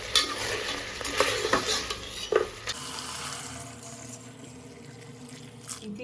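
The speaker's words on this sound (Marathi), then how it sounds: "आता आपण याच्यात टाकूया गरम पाणी" Hot water poured into a pan of drying mutton being cooked Satara style, a loud hissing sizzle and splash for the first few seconds, then settling into a quieter steady simmering bubble.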